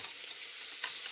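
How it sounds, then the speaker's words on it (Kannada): Mint leaves frying in hot oil in a pan, a steady crackling sizzle with light stirring scrapes, close and alone. "ಎಣ್ಣೆಯಲ್ಲಿ ಇದನ್ನು ಸ್ವಲ್ಪ ಬಾಡಿಸ್ಕೋಬೇಕು"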